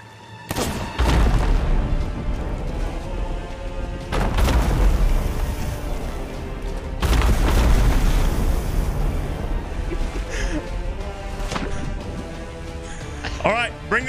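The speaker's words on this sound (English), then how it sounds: "You guys ready for the big boom?" A big explosion in the pirate game Sea of Thieves, heard as deep, heavy booms rolling over ocean wash, with several loud surges and voices talking throughout.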